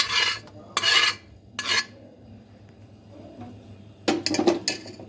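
Serving chicken nihari from a pot into a dish with a metal spoon: several scraping strokes, then a cluster of clinks and knocks against the vessel, close and moderately loud, with no talk.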